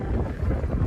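Gusty wind buffets the microphone outdoors beside Crescent Lake at the BoardWalk, a continuous low rumbling roar that stays loud and steady throughout.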